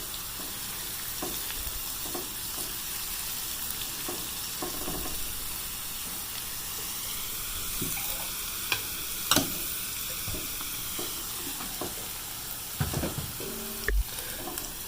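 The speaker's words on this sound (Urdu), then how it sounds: "اس کو اچھی طرح فرائی کر لیں گے اس کو" Browned onions frying with ginger garlic paste in oil, a low steady sizzle under scattered spoon scrapes and a few louder knocks near the end, no voices.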